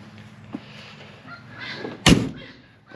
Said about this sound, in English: I love how solid those doors are.